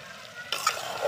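Chicken soup gravy bubbles in a pot over a clay stove. A soft, steady hiss runs throughout and turns louder and fuller halfway through, with a few bright clinks.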